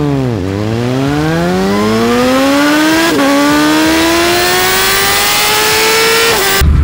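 A Yamaha MT-09 motorcycle set to a GSX-R exhaust sound mode revs hard three times, each pull climbing steadily in pitch, loud and close with no talking.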